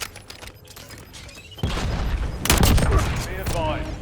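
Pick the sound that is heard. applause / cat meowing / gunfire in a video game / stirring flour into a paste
gunfire in a video game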